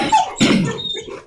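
A young puppy gives a couple of loud, close, short barks in quick succession, with no talking over them.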